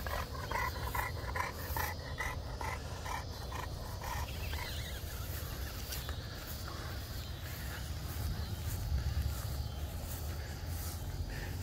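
A French bulldog pants rapidly while playing with a French Mastiff, the rhythmic breathing close and steady over background rustle and movement, with brief faint voices.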